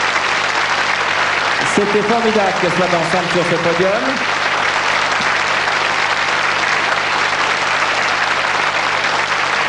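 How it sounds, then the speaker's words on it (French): Audience applause fills the Miss France 1991 pageant hall, a loud continuous roar of clapping from a large crowd, with a presenter speaking briefly over it early on. "Applaudissez cette très belle élection et ces très belles Miss."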